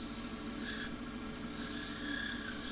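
A small pistachio wood bowl is sanded with 180 grit abrasive, a soft, continuous rasping rub with slight surges in intensity, heard alone at close range.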